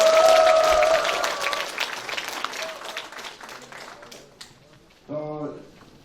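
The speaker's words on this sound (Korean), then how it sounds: "뜨거운 박수와 함성 부탁드리겠습니다" A lecture audience at a Democratic Party members' education event in Incheon applauds, loud at first and then fading, with a voice speaking over the clapping.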